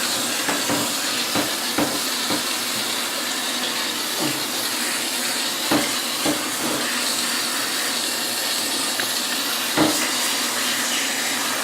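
Steady hissing spray of water rinses a cat during a bath, running continuously at close range with occasional short knocks and splashes breaking through.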